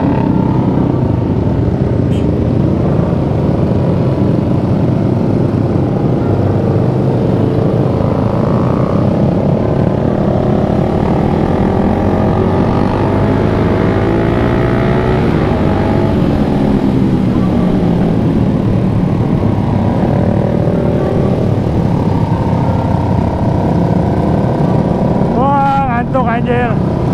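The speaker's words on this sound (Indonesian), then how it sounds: "Kita pakai motor Rangga, FU-nya." A Suzuki Satria FU motorcycle rides at night, its engine droning steadily under constant wind rush, close and loud throughout.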